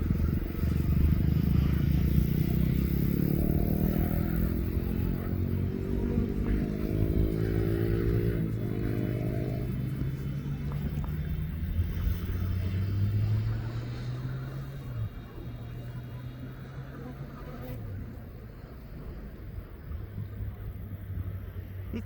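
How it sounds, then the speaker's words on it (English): A two-year-old Ryanair jet is pushed back at East Midlands Airport for an Alicante departure, with a loud, steady engine and tug drone and rising and falling whine tones throughout, plus wind noise on the microphone. "I'm going to stay on with this Ryanair's Alicante flight as it's being pushed"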